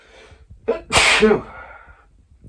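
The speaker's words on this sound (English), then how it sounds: "Pardon me. Well, bless me. Sneezing." A single sharp sneeze bursts out, loud and close, with a brief inhaled build-up just before it and quiet afterward.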